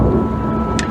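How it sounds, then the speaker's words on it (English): Loud, steady roar of a thunderstorm with heavy rain pouring down, a dense continuous wash of noise with low rumbling and a brief sharper crack near the end. "No, it's really storming."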